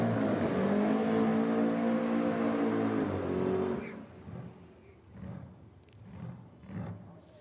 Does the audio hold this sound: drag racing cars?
yes